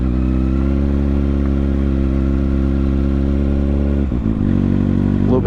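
A Kawasaki Ninja ZX6R engine pulls steadily in second gear, a loud close harmonic drone that holds for about four seconds, briefly dips as if the throttle blips, then climbs again.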